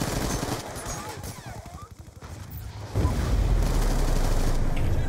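Rapid Black Ops 2 gunfire rattles in bursts, a quick run of close shots in the middle followed by a louder, denser stretch of firing, with faint voices mixed in.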